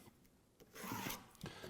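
A pencil drawing a line across a board of wood, a short soft scratchy rub heard close and faint, with a brief stroke near the start and a longer one that follows.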